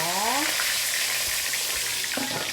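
Sweet potatoes fry at low temperature in oil in a covered Tupperware pot, crackling and sizzling loudly and continuously, with brief clinks and scrapes mixed in.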